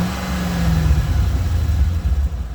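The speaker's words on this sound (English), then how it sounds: "Magnaflow exhaust, sounds fantastic." Hummer H3 Alpha fitted with a Magnaflow exhaust, its engine idling with a deep, steady low rumble close by, slight swells in level and no talking.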